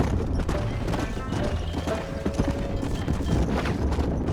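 A herd of horses gallops in the video game Red Dead Redemption, a dense, rapid clatter of hooves close by with an occasional whinny and faint background voices.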